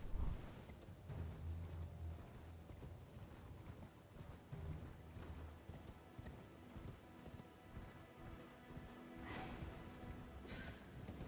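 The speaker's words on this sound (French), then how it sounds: "Allez, avance, mon petit cheval." Horse hooves clip-clop in a steady trotting rhythm while riding in Elden Ring, close and clear, with occasional game sound effects and a brief brighter swoosh near the end; no one speaks.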